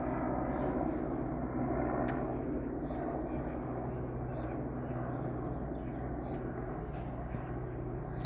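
Somewhere above, a hiker-rescue helicopter passes with an even, moderately faint engine drone that eases slightly over time, alone without talk.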